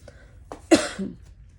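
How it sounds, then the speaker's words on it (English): A single short, sharp cough bursts out near the mic, followed by a softer throaty rasp, with a quiet moment before it. "every time I start filming, I have to like cough"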